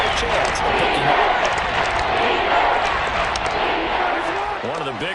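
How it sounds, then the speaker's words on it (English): A football stadium crowd roars loudly and steadily ahead of a big third down, a dense wash of cheering with a voice briefly audible over it at the end. "The crowd getting into it as we come up on a big 3rd down."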